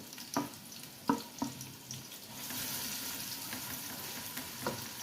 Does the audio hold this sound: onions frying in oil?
yes